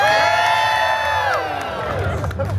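Crowd cheering and whooping at a Deadpool Christmas show in Disney California Adventure, a loud, sustained wash of many voices with high shouts rising and falling.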